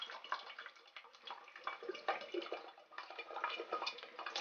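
Coconut water pouring out of a cracked coconut, a continuous soft trickling splash that runs steadily throughout, fairly faint and close, with no talking.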